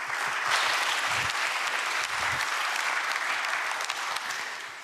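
An audience at a South Korean government policy presentation applauds, a dense, sustained clapping that carries on steadily for several seconds before tapering slightly at the end.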